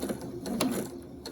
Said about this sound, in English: A couple of stitches forward, end with your needle down, press reverse, go back to the edge